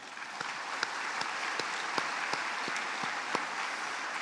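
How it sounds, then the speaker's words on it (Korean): Steady, even applause from an audience at a ceremony honouring Korean War veterans and their families, with sharp individual claps standing out through a continuous wash of hand-clapping, moderately distant and with no talking. "함께 박수 한번 드리겠습니다."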